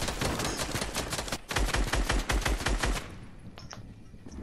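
Rapid automatic gunfire in the Fortnite battle royale video game, dense bursts of loud shots for about three seconds, then tapering to a few scattered distant pops.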